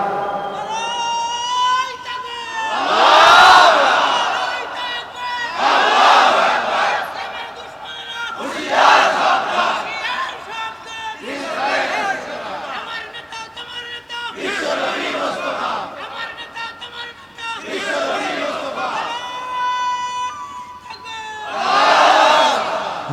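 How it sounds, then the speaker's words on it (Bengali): A large crowd at a Bangla Islamic sermon gathering in Shyamnagar roars takbir in repeated loud collective shouts, each swelling and fading in a steady call-and-response rhythm. "আপনারা একজনে তাকবীর দেন তাড়াতাড়ি"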